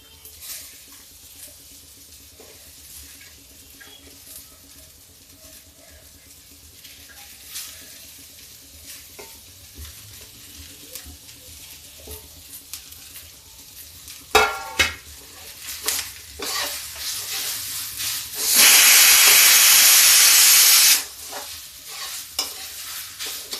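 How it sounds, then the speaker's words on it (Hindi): Chopped bottle gourd added to a hot pan for a chana dal and lauki curry, with stirring and sizzling throughout, swelling into a loud, close burst of frying near the end, with no talk. "अब डालते हैं इसमें हम ये लौकी।"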